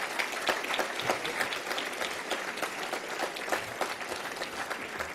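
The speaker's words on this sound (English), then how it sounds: "So let's have a round of applause for them." Sustained applause from a dinner audience at an award ceremony, dense and steady clapping from many hands filling the room for several seconds with no voices over it.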